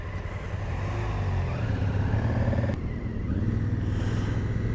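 BMW RT motorcycles on the road give a steady, fairly loud engine drone with low rumbling and a faint rising whine, nearby and without voices.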